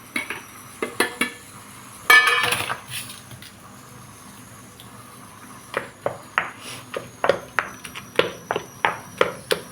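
Pounding white eggplant chutney paste with a pestle in a stone mortar, a brief burst of scraping near the start and then a steady run of about a dozen sharp, close thuds in a regular rhythm, no talk.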